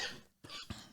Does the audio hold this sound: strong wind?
no